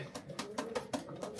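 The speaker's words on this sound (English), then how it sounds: "So the pigeon at the back is Pioneer Warrior." A racing pigeon coos softly inside a loft in a few short, repeated phrases, at moderate level and fairly close, with no talk.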